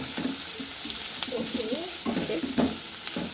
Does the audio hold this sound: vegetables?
yes